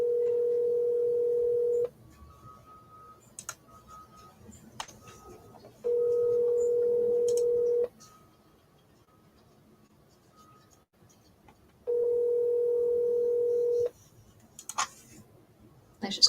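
Three separate bursts of a steady telephone dial tone, each about two seconds long, sound during repeated outbound calls. Faint clicks and room noise fill the quiet gaps between the tones.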